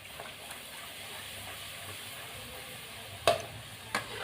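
Hot oil in a kadai gives a soft, steady low sizzle for poori frying, fairly faint and close, broken by two sharp clinks or taps near the end; no voices.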